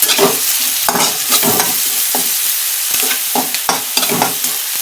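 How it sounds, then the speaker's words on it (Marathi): Curry leaves hit hot oil for a village-style okra fry, giving loud, close, repeated crackling and spluttering bursts over a continuous sizzle. "मग त्यामध्ये ना कढीपत्ता, कारण तेल जास्त उडतं"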